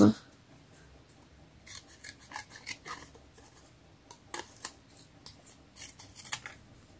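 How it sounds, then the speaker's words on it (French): Scissors cutting around the edge of a handmade paper card, giving a run of soft, close snips and rustles at an uneven pace, fairly quiet against a low background. "je vais couper autour"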